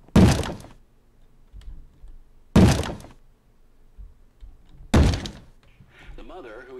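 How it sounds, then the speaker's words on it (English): Door banging in a Minecraft horror map, three loud heavy thuds spaced about two and a half seconds apart, close and sharp, with quiet clicks and a brief voice between them. "Can you stop banging the door?"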